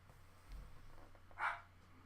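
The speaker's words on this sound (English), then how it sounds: "So if you can hear my dog in the background." A dog somewhere in the background of a home setting gives a single brief bark, quiet and distant, standing out once over low steady room noise.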